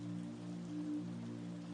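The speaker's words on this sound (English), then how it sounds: "The rain had started, soft at first, but gaining strength with each minute." Rain falls softly and steadily, a faint, even patter with a low, humming tone running beneath it throughout.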